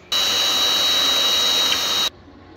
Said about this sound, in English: just try to make the pilot hole right in the center on all of them